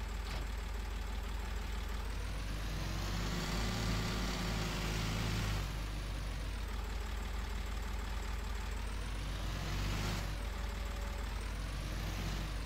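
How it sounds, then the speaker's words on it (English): A tractor engine idles steadily on a back-yard farm as it is parked up, a low continuous rumble with a slight rise and fall in pitch and no voices. "and then we'll park the tractor up for another day."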